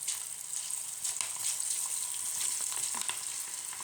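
Food frying in hot oil, a dense crackling sizzle with scattered pops and bubbling, heard close and steady throughout.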